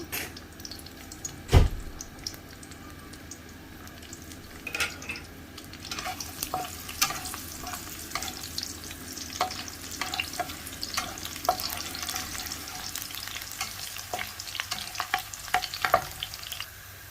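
Dry red chilies and sliced garlic fry in oil in a pan, with a steady crackling sizzle under repeated spatula scrapes and clicks and one sharp knock near the start.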